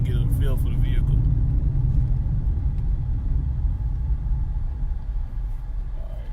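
A 2012 Mitsubishi Outlander Sport ES pulls away on a test drive, its steady engine rumble and road noise filling the cabin throughout, with a brief bit of talk near the start.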